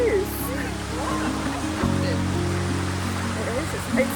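An incoming tide washes steadily onto a seashore with a constant rushing surf. Voices talk over it throughout.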